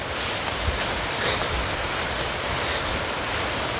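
River water flows steadily nearby, a broad continuous rushing wash that stays even and unbroken throughout, with some wind noise on the microphone.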